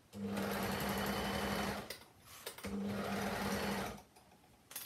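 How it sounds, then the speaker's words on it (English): An overlocker stitches jersey fabric for a skirt in two steady bursts of fast mechanical whirring, each about two seconds long, with a short pause between them, while a voice speaks briefly over the machine. "And look how easy this is when you're sewing on an overlocker."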